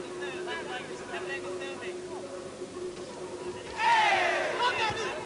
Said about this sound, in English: You hear the crowd roar.